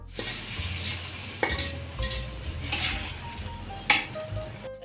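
Onions frying and browning in a pan give a steady sizzle, while a utensil stirs with several distinct scrapes and clinks against the pan, all close up without any voices.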